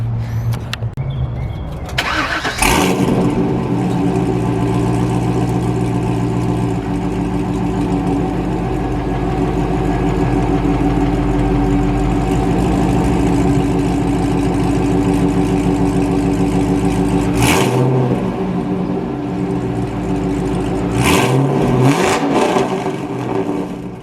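A Chevrolet C5 Corvette cold-starts with a sharp crank and catch, settles into a loud, rumbling idle close by, then gives a few brief blips of the throttle near the end.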